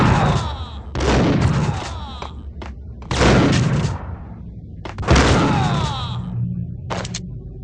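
Gunfire in the Max Payne Mobile video game: three loud, sharp shots spaced about two seconds apart, each with a lingering echoing tail, plus a few smaller cracks in between.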